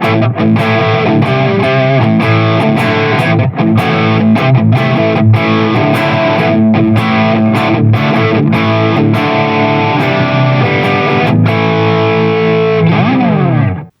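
An electric guitar on its rhythm pickup plays loudly through a Boss DA-2 Adaptive Distortion pedal, chords ringing thick and continuous for the whole stretch before the sound cuts off abruptly.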